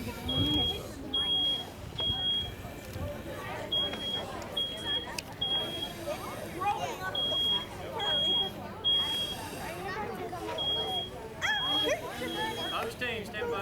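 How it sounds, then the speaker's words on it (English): Residential smoke detector in a live-fire burn house demonstration, sounding repeated short, high beeps in a steady rhythm over crackling fire noise, with people talking underneath. "Smoke detector is activated."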